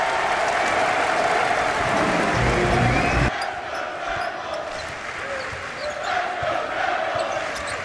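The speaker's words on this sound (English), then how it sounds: "And listen to the crowd in Philly." Arena crowd at a college basketball game in Philadelphia, a loud roaring din with cheering and clapping that drops abruptly partway through, then continues as a lower, busy crowd murmur with scattered shouts.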